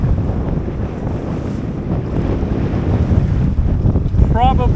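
Strong wind roars over a small 21ft sailboat close hauled under full sail on the open Atlantic, with building seas of about one meter rushing and slapping along the hull, loud and constant.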